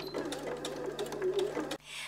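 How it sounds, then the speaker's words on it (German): A sewing machine stitches a fabric shopping bag in a close, steady whirring run with a rapid needle rhythm that stops abruptly near the end. "Und dann nähst du wieder bis zur Markierung."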